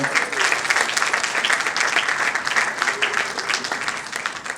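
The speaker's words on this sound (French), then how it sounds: "Sous vos applaudissements." Steady, dense applause from an audience at a gospel music event as a band member is introduced, continuous and fairly loud throughout with a faint voice beneath.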